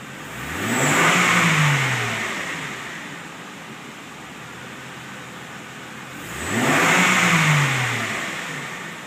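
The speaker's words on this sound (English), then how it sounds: "Let me get you to rev it up when I'm on your video." A car engine revs up twice, each burst rising in pitch and then falling away, separated by a stretch of steady lower idle. The sound is fairly close, and no one speaks.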